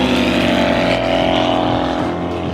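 Bush plane taking off downhill from a steep airstrip, its engine roaring loud and close at full power with a steady throbbing drone throughout.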